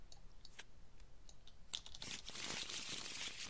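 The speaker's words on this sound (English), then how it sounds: "give this a shuffle" Arkham Horror card deck being shuffled, a quiet start of light ticks giving way to a dense, crackling riffle of cards that carries on to the end, close by and moderately loud, with no talking.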